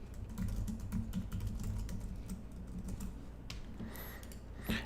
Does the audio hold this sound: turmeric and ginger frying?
no